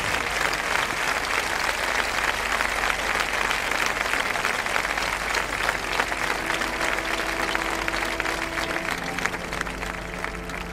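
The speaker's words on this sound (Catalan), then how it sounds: "rep els aplaudiments enmig de l'escenari Marina Rosé." A concert audience claps for a performer standing mid-stage, dense, sustained applause that fills the hall, with a faint musical tone entering near the end.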